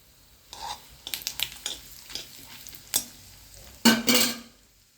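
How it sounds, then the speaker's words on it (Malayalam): Urad dal frying in a pan for a carrot and long bean stir-fry, with soft sizzling and several close scraping stirs that come in bursts, the last ones loudest. "ഉഴുന്ന് പരിപ്പെല്ലാം നന്നായിട്ട് പൊരിഞ്ഞ് വന്നിട്ടുണ്ട്"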